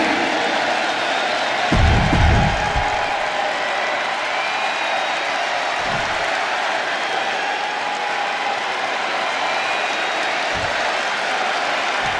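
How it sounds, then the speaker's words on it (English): A virtual arena crowd roars and cheers steadily in the WWE 2K25 wrestling game, a broad continuous wash of noise with brief low thumps near the start and a couple more later. "The crowd on their feet."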